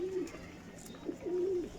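Breeder pigeons coo nearby, two soft rolling coos separated by a short pause over faint background noise, with no voices.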